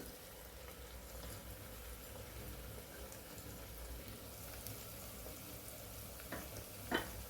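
A spiced mung bean mixture with masala, garam masala and turmeric fries and is stirred in a pan, giving a soft continuous sizzle and a sharper scrape near the end.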